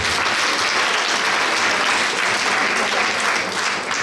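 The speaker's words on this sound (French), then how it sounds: "Bravo, on s'applaudit." Conference audience applauds steadily, a thick, even wash of many hands clapping throughout, with no pauses or talk over it.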